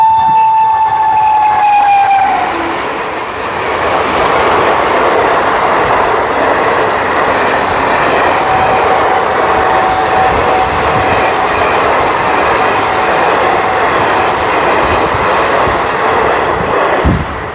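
A train passing at a rail crossing, loud and close: a horn blast at the start, then a sustained rumbling roar of wheels and cars rolling by with rhythmic clatter until it fades at the end.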